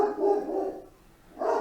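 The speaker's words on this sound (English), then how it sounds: "Don't mind my big ass dog, he's annoying." A big dog barking indoors, two close, loud deep barks with a brief pause between them.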